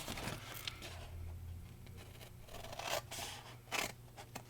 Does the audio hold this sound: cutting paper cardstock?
yes